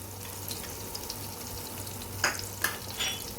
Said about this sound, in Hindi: मैं इसमें मैदा ऐड करूँगी और मैदे को मैं अच्छे से भून लूँगी